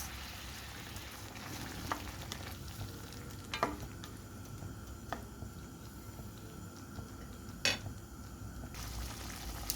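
Carrots, with a splash of water added to soften them, and cabbage sauté in a pan with a soft, continuous sizzle, broken by a few sharp clinks of stirring.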